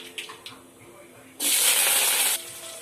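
Onion and curry leaves drop into hot oil for valakkai sambar, setting off a sudden loud sizzling hiss that lasts about a second before cutting back, after a few soft kitchen clatters.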